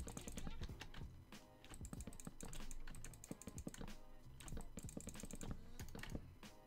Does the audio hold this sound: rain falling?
no